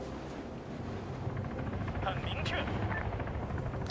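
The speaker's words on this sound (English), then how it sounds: "Yeah, that other chopper is coming in." In the video game Arma 3, a helicopter drones steadily overhead in a Vietnam War battle, the rotor noise continuous and moderately loud beneath a voice talking over it.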